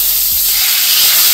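Whiting fish fillets laid skin side down into hot lemon butter, giving a loud, steady frying hiss that fills the moment alone, with no talking.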